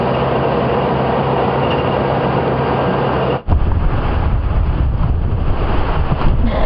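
Wind on an open safari vehicle on an afternoon drive, loud roaring buffeting against the microphone with steady rumble, cutting briefly midway and then returning even stronger and gustier.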